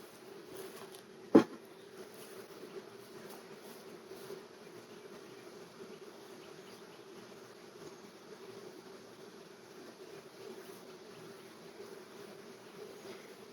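Honeybees hum softly and continuously around an open hive during an inspection, a faint steady drone broken once by a sharp knock early on.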